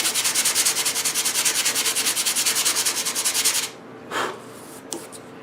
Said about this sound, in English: Let's take an area and sand that finish down a little bit.